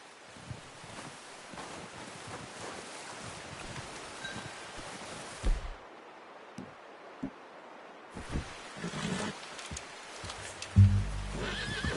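A horse neighs loudly in a video game against a steady wash of wind and outdoor ambience, with a few hoof thuds and a second whinny later on.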